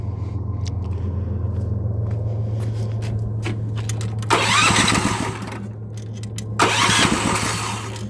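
A small engine on choke idles with a steady low drone, then twice surges into loud, rough revving bursts as it catches and runs.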